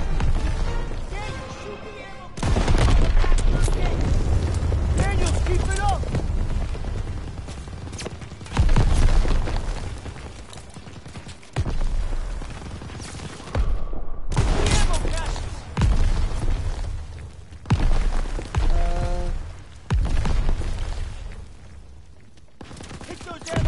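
Bursts of gunfire and booms from Call of Duty WWII as players shoot ammo caches in Operation Cobra, loud and dense with repeated volleys, while excited voices talk over the shooting.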